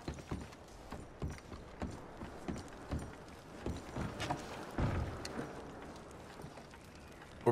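Horse hooves clip-clop in Red Dead Redemption 2, a steady run of soft, evenly spaced thuds that carries on at moderate loudness through the whole stretch, with faint background ambience and no talk.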